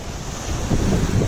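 Waves churning on water under strong, blustery wind rumbling against the microphone, loud and continuous.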